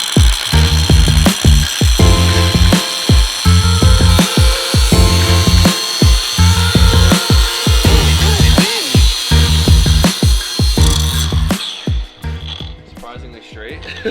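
A power saw cuts a driveshaft pilot shaft in a rapid series of loud, close, pulsing strokes, then stops and leaves a quieter tail.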